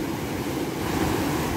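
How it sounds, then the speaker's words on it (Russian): Sea waves wash steadily over the shore, a continuous loud broadband surf rush with some wind noise and no break in the roar. "посмотрите вот эти места, как море работает с берегом"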